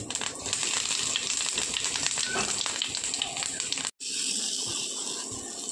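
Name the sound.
whole cumin and asafoetida sizzling in hot oil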